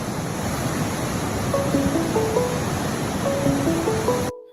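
Strong floodwater rushing after Hurricane Helene makes a steady, loud, broadband roar, with a few faint melodic electronic tones drifting over it before it cuts off.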